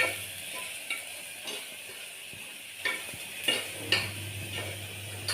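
Garlic fries in hot oil for a tadka in a home kitchen: a soft, steady sizzle close by, broken by a few light clicks and scrapes of stirring.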